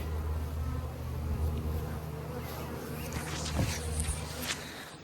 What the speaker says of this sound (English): I honestly don't know if this is too many bees or not